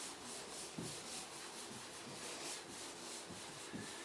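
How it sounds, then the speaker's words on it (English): A damp sponge rubbing over drywall joint compound on a patched hole, a soft, quiet, rhythmic scrubbing with repeated strokes close by. "with our damp sponge, we're going to smooth out any knife marks or imperfections"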